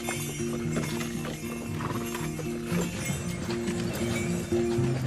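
Hooves of heavy Comtois horses, around 800 kilos each, clip-clop steadily in a walking rhythm, close and continuous, with a low droning background underneath.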